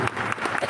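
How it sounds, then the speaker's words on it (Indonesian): An audience claps at a church revival sermon, a short burst of lively, close hand-claps in quick, uneven pulses. "Boleh berikan tepuk tangan yang paling meriah"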